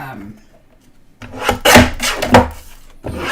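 A sand eraser rubs briskly across card stock in a few close, loud, gritty back-and-forth strokes, with a brief quiet lull before the scrubbing starts.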